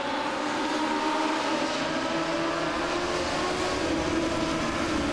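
Legends race cars circling Langley Speedway, a steady broad roar of engines heard from a distance, continuous and even with no distinct pass-bys.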